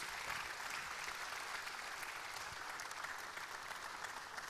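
Audience applause welcoming a guest onto the stage at a 2017 forum, steady dense clapping throughout with no pauses.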